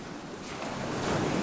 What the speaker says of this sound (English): The wind was still blowing. The waves were bigger than ever.